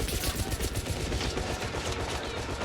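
Sustained heavy gunfire in the spy shooter video game 007 First Light, a dense, continuous barrage of rapid shots and booms filling the whole stretch at high, steady loudness.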